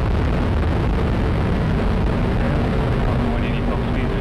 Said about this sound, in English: liftoff of the United Launch Alliance Atlas V rocket with AFSPC 11